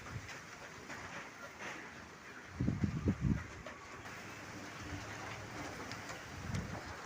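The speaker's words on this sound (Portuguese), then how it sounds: "E tá aí a chuva." Heavy rain beats on plastic roof tiles during strong wind, a faint constant wash with a burst of louder rumbling thuds near the middle and again toward the end.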